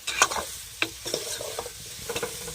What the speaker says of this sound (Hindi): अब हम कैथा को चलाएंगे। तो फिर देखिए दोस्तों अब चला लेते हैं इस तरह से।